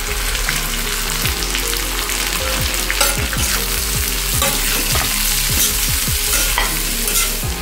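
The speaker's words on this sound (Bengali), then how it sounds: "আলুটা ভাজা হতে হতেই দিয়ে দেবো পেঁয়াজগুলো" Potatoes fry loudly in a pan as onions go in, a dense steady sizzle with repeated stirring scrapes, close and constant with no talk.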